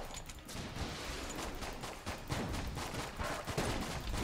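Missile launches and rapid gunfire in the video game Enter the Gungeon, a continuous dense barrage of shots and bursts playing at a steady level without speech.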